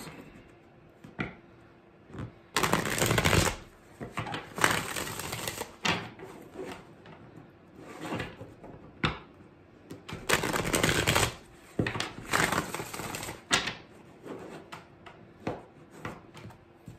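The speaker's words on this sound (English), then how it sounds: "Two more shuffles for Pisces." Tarot cards are shuffled by hand in repeated crisp riffling bursts separated by short pauses, close up and fairly loud, with no talking.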